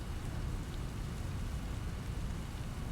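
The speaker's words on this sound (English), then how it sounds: "Is it raining out? Yeah, it is." Steady rain falls in the video game Satisfactory, a soft, even hiss of drops with a low rumbling undertone, faint and continuous with no voices.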